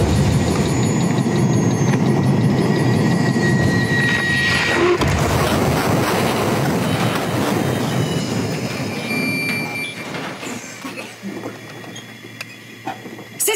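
A dropship engine roaring as it comes down to land on the ring in Halo Infinite, a loud sustained rumbling drone with metallic whines and rattles, easing off toward the end.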